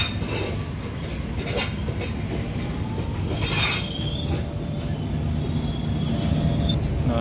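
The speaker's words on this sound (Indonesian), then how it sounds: "Nah, ini dia keretanya ya." An executive class passenger train on the Bogor–Sukabumi line rumbles steadily with rail clatter, wheel squeal and a metallic whine, fairly loud and continuous throughout.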